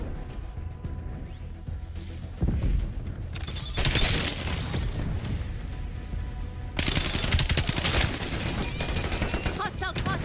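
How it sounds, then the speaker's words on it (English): Cluster grenade blasts in a Call of Duty Black Ops 7 beta multiplayer match, with several heavy booming bursts layered over continuous rattling gunfire that keeps the whole scene loud. "Hostile cluster grenade."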